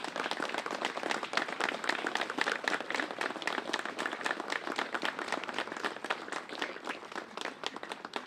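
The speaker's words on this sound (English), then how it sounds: "give a round of applause for this brand new stone for Martin McHugh" Outdoor audience claps steadily at a veterans' graveside ceremony after a rifle salute, honoring a new headstone for Medal of Honor recipient Martin McHugh; dense, even applause lasting throughout without pause.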